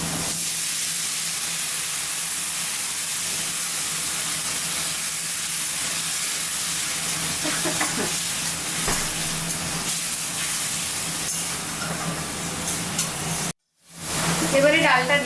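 A little water splashes into a hot pan of paneer masala, setting off a loud, steady, close sizzle and steamy hiss that continues throughout, with faint stirring scrapes underneath before a brief cut near the end.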